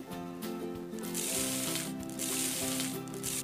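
Boiled corn frying in a cooking game sizzles with a crackly hiss over a bright, looping game music track, with no voices.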